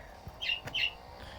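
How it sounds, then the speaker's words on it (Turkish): A bird chirps twice in quick succession, two short, bright calls over a low, steady background hum. "Ha kuş konuşuyor."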